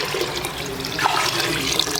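Water gushes and splashes into a pot of wheat and lentils for mutton haleem, a steady close pour with a bright, bubbling flow and no voices.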